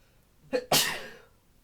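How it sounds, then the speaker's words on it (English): A single sneeze: a short sharp inhale followed by an explosive burst that trails off quickly, in an otherwise quiet room. "I'm gonna sneeze."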